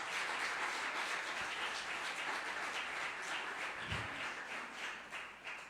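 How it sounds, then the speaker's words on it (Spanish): A church congregation claps together, a soft, fairly distant spatter of many hands that keeps a steady pulsing texture throughout and then thins slightly toward the end. "Démosle un fuerte aplauso al Señor."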